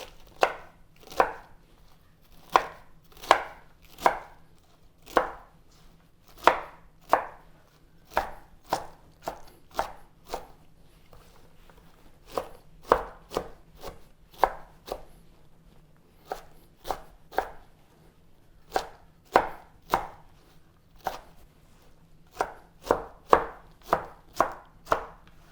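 Cabbage being chopped fine for coleslaw, a long run of crisp knife strikes on a cutting board in uneven bursts, close and clear with no talking.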